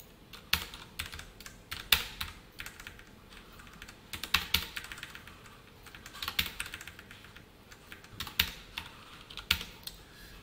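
Close keyboard typing while JavaScript code is entered on a computer, with bursts of quick key clicks and short pauses between them, and no speech.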